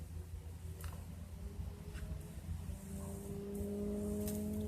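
A motorbike passes at a distance outdoors in the African bush, its engine hum rising steadily and growing louder toward the end, with faint bird calls scattered above it.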